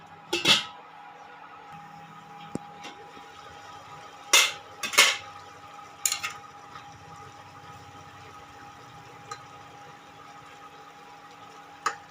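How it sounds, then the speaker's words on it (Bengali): A lid placed on a cooking pot in a village kitchen, a few sharp metallic clanks and clatters scattered over a quiet background with a faint steady hum. "ঢাকনা দিয়ে দিচ্ছি।"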